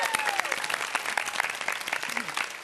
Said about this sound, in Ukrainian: Ваші оплески, Джамала!